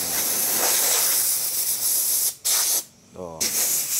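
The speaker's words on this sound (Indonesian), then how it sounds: "Nah, coba kalau kita semprotkan ini, oh langsung bersih dia." Loud, close hiss of an NMS air hose blasting compressed air to clean tight corners, in long continuous bursts with brief gaps, a voice speaking in one pause.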